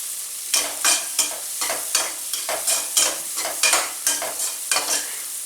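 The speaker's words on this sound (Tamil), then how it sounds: "இந்த பச்சை மிளகாயும் இதில் சேர்த்துடலாம். சேர்த்துட்டு நல்லா வதக்கலாம்." Onions and green chilies sauté in a pan as a spatula stirs them in quick, regular scrapes, about two per second, over a soft continuous sizzle, close and unaccompanied.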